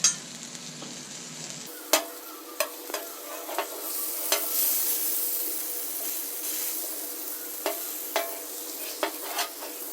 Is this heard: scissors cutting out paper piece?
no